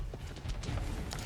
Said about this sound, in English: you can see those horses coming back